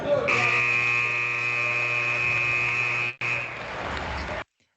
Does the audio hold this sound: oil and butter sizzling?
no